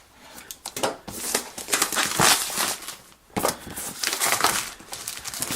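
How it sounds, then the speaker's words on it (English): Plastic wrap on a 2015 13-inch MacBook Pro box is cut and pulled away, giving loud close crinkling and tearing crackles in two bursts with a brief pause between them. "first thing we need to do is cut the plastic along the back"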